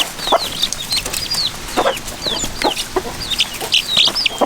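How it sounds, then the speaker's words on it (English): Young chicks cheep constantly in a farm brooder, high thin chirps coming in quick overlapping bursts, close and fairly loud with no talking. "But the little chicks are growing pretty quick."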